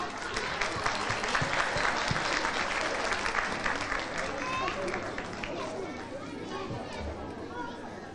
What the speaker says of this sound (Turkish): Alkışlarımız Humay Mehmetli için.